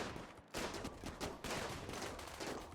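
Rapid gunfire in a RimWorld raid, a steady stream of quick overlapping shots forming a continuous crackling barrage, moderately loud with only a brief break near the start.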